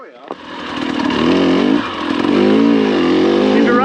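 A four-stroke dirt bike revs hard on a short, steep off-road climb, the close engine note rising and falling in pitch as the throttle opens, loud and continuous throughout.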